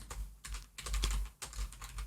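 Rapid typing on a computer keyboard while coding, in short bursts of close, crisp key clicks separated by brief pauses.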